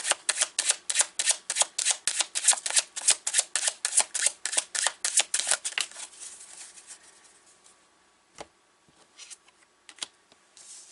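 Tarot cards are shuffled in a fast run of rhythmic riffling snaps lasting about six seconds. A few sparse, softer card taps and flicks follow as cards are drawn, close and without talk.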